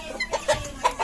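A hen clucks in short, uneven bursts, close by and fairly loud, with a few sharper squawk-like notes mixed in.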